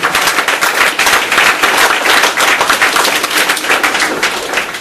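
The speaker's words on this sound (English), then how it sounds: "Let's give her a round of applause real quick." Loud, close applause from an audience at a bookstore talk, dense sharp clapping sustained throughout with no speech over it.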